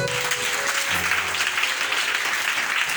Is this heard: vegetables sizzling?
no